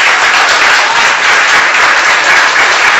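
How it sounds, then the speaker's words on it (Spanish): Loud, dense applause from a gathered audience at a news-program event, a steady continuous wash of many hands clapping close by. "Un aplauso a Dorailda."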